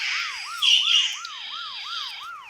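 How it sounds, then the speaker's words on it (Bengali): A police car siren in the Bus Simulator Indonesia video game wails in quick, regular rising-falling sweeps, loud and clear with no other sounds around it. "পুলিশের গাড়ি যেতে শব্দ হচ্ছে"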